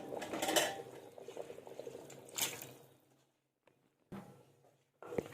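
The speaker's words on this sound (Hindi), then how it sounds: "अब मैं इसके अंदर राइस ऐड करूंगी अपने।" Rice goes into boiling yakhni stock in a pot for beef deghi pulao, giving a few splashing, pouring bursts with bubbling between them, then quiet pauses broken by short clattering rattles.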